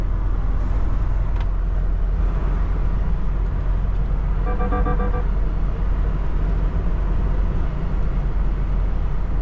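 A car driving along a curving road past buildings and trees, with a loud, constant rumble of engine and tyre noise, a brief light beeping tone midway and no talk.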